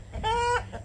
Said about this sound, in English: Because, I mean, they are roosters.